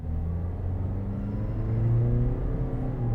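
A small crossover with a CVT that has a launch gear pulls away, its engine droning as a low, smooth, steadily rising hum heard from inside, with no talking.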